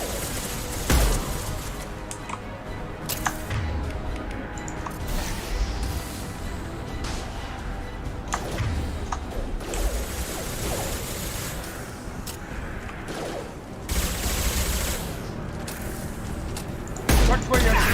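Gunfire and impacts from a Mass Effect sci-fi firefight, with bursts, thuds and crashes spread across a dense, busy mix under voices calling out.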